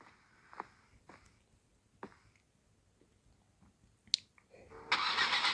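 A Volga car engine starting in a video game: a few faint clicks and taps, then the engine turns over and catches at the very end, close and moderately loud.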